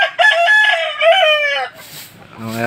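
An Aseel rooster crows loudly and close by at a backyard chicken house, one long drawn-out call, followed by faint clucking and a brief voice.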